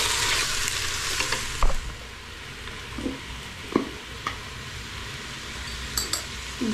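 Chicken wings fry in a pot for Tlemcen harira, a continuous close sizzle broken by occasional scrapes and light clinks as a utensil stirs them, with no talk.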